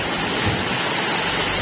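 Strong, steady gush of fresh spring water on an island, a dense close rushing and splashing that stays constant and loud with no voices.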